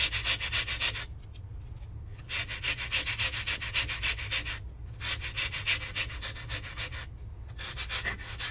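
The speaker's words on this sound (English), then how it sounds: "you just keep on filing the tip to get it as sharp as you want it to go" Nail file rubbing back and forth on a C curve nail tip on a practice hand, a close, steady scratchy rasp in rapid strokes broken by a few brief pauses, with no talking.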